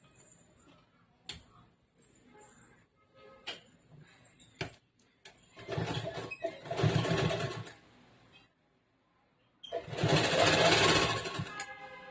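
A sewing machine stitching a princess-cut boat-neck blouse, with scattered clicks and handling noises, then two short bursts of running motor, nearby and moderately loud.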